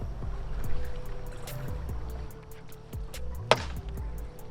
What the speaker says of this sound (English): that's what it sounds like when you hit a boat